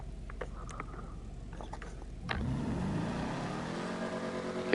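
Muscle car from Grand Theft Auto Online, a Classique Broadway, revving its exhaust, a mid-pitched engine swell that starts abruptly partway through and holds steady and moderately loud, fairly mild rather than aggressive, after quieter background noise.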